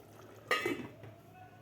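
Masoor pulao is stirred in a pot on low flame, a single short scrape and clink of a spoon against the metal, quiet and close, with faint background hum.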